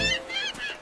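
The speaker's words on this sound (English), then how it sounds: "Hello, Mr. Seagull." Cartoon seagull calling at the beach, a few nasal, honking squawks in quick succession, close and clear with no voices.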